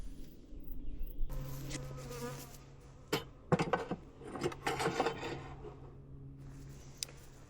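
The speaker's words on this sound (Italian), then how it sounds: "Ecco, c'è già un'ape sentinella che mi controlla." Honey bees buzz close around the hive of a weak colony whose queen has just begun laying, a steady droning hum with individual insects passing near and away.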